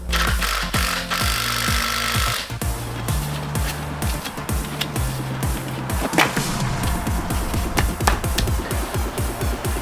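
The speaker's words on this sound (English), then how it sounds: "giving it a good clean with a wire brush and some brake cleaner" A wire brush scrubs a car suspension spring assembly during a Mini JCW R56 strut rebuild, with repeated rapid scraping strokes in bursts, close and fairly loud, with no speech.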